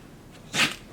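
A single quick, breathy sneeze bursts out once, short and sharp, against a quiet background.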